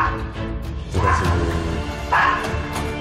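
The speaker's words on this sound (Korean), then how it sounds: "이 양쪽에서 짖고 점프하고 아주 난리가 났습니다" Small dogs bark loudly and excitedly at close range as a door opens, giving two sharp bursts of yapping over low background noise.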